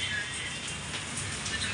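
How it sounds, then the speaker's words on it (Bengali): Rain falls during a storm in a steady, soft hiss of drops that stays even and continuous, with no talk over it. "দেখো কিরাম বৃষ্টি পড়ছে, দেখেছো?"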